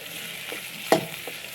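Onions and curry leaves fry in a pan with a soft, steady sizzle and a sharper crackle or stir near the middle, close and quiet, without speech.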